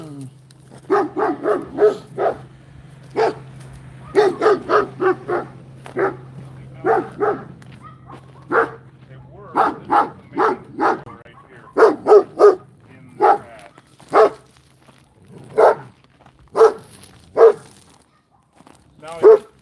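Dog barking repeatedly in a series of loud, close barks with short irregular gaps, outdoors near beehives on a warm day, with a steady low hum underneath for much of it.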